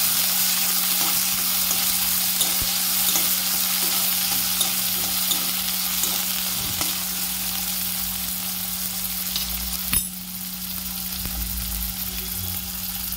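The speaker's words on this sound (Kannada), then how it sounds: "ಆಮೇಲೆ ಹೆಚ್ಚಿಟ್ಕೊಂಡಿರುವಂಥ ಕ್ಯಾಪ್ಸಿಕಮ್ ಹಾಕಬೇಕು. ಅದನ್ನು ಚೆನ್ನಾಗಿ ಫ್ರೈ ಮಾಡಬೇಕು" Chopped capsicum fries in a pan with a steady, close broadband sizzle and occasional stirring scrapes, continuous throughout with no voices.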